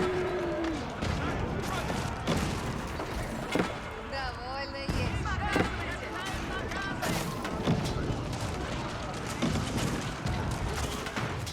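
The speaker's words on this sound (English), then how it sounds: "Cannons engaging the keep up here." Cannons boom repeatedly at a keep in Age of Empires 4, amid battle clatter and crashes, with a voice commentating over the continuous action.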